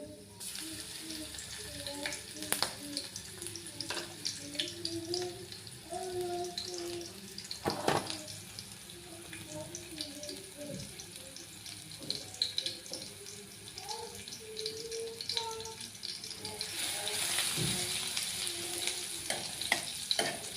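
Garlic dropped into a kadhai of hot oil after crackling cumin, on low gas: a soft continuous sizzle with scraping stirs and sharp metallic knocks throughout, faint voice in places.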